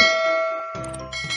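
A notification bell sound effect rings out alone as a bright metallic clang with a lingering ding, followed by a second shimmering chime layered over it.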